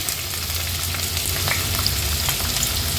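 Finely chopped onion frying in hot oil with asafoetida and bay leaves for a dhaba-style chicken masala, a steady close sizzle with faint stirring clicks, no talking.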